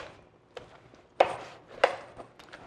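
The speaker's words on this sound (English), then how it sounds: "I'm gonna take my knife, I'm gonna hold it here at the joint and pop it." A knife popping through a rabbit joint while a rabbit is butchered for pan roasting: a few sharp, close cracking chops, the two loudest about half a second apart, over quiet room tone with no talk.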